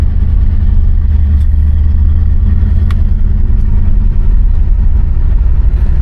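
Inside a 1979 Oldsmobile Cutlass Hurst on a test drive, the engine rumbles steadily and loudly with a deep, even drone, a couple of faint clicks rising briefly above it.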